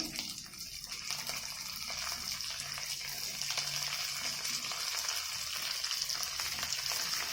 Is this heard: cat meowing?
no